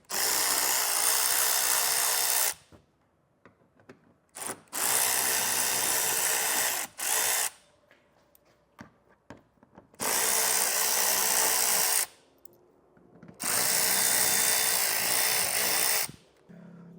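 A power drill with a T30 Torx bit backs screws out of a Ford underbody panel. Four loud, close whirring bursts of about two seconds each are separated by quiet gaps with small clicks and handling noises.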